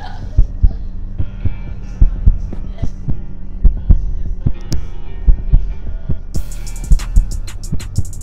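A steady, throbbing heartbeat pulse from the Roblox horror game The Mimic, loud and regular over a low droning hum, with brief higher rattling near the end and no talking.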